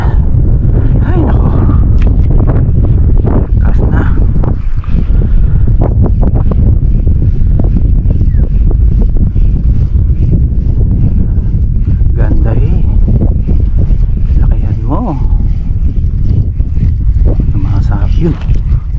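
Heavy wind buffets the microphone with a constant low roar throughout, over water sounds, and voices speak faintly underneath.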